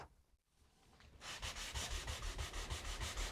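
Quiet, rhythmic rubbing of a hand over a wooden surface, a dry scratchy swish repeating in quick even strokes.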